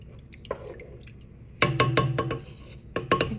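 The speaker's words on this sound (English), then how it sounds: "Then I'm just going to stir this around good." A spoon scrapes and clinks through a thick one-pot pasta mixture in a cooking pot, with wet squishing and sharp clattering strokes that come in short bursts, louder partway through.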